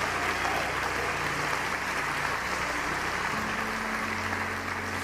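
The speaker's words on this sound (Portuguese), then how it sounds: "Quantos podem aplaudir e glorificar o Espírito Santo de Deus neste lugar?" Congregation applauding in a church to glorify the Holy Spirit, a continuous wash of clapping with a low sustained organ or keyboard tone beneath.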